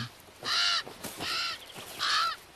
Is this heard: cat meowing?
no